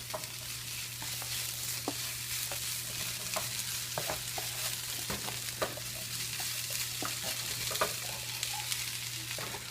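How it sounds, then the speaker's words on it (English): Onion, carrots and already-cooked corn and peas fry in a pan, a steady bright sizzle running throughout, broken by soft clicks and scrapes of stirring; no voices. "now add in the carrots and continue to fry"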